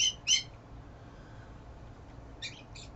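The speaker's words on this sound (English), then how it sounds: "Please forgive the birds, they are being loud as fuck." Outdoor birds squawk in short, loud, high-pitched bursts, a pair at the start and another pair near the end, separated by quiet ambient background.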